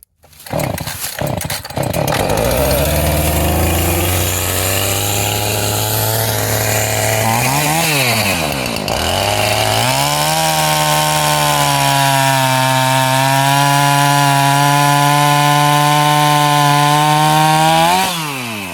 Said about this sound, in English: we should take the chainsaw and clean up all these little sticks coming out, all the branches